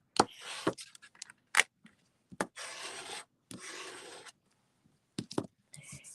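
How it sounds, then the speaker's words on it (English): Packing tape on copy paper being burnished on the back side, heard as close, short scraping and rubbing strokes in irregular bursts with brief silences between them. "I'm going to flip this over and I want to give that a nice burnish"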